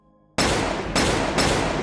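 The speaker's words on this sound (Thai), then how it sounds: "ก่อนจะมีเสียงระเบิดกระสุน ดังขึ้นมาติดติดกันถึงสามนัด" Three gunshots as a sound effect in an audiobook story, loud, close and abrupt, fired in quick succession with each blast ringing into the next.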